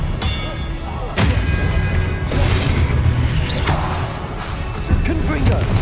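Confringo fire spell blasts in Hogwarts Legacy combat, several loud booming bursts and crackling impacts over a dense clash of game effects and voices, with sharp hits around one and two seconds in.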